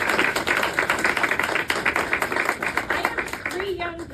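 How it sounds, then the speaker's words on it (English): A fundraiser crowd bursts into a round of applause, dense, sustained clapping from many hands filling the room, tapering near the end as a voice starts to speak. "So I really want to put a round of applause into that"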